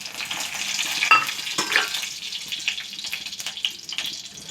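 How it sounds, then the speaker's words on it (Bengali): Nigella seeds and two dried chillies hit hot oil for a fried dhenki greens dish, giving a steady bright sizzle and crackle with a few sharper pops near the start, close and fairly loud. "কালো জিরা ফোড়ন দেব, 2টো শুকনো লঙ্কা দেব,"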